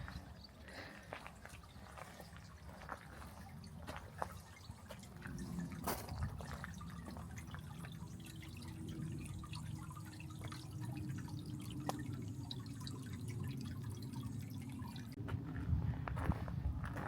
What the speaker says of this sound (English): We're looking for a big water feature.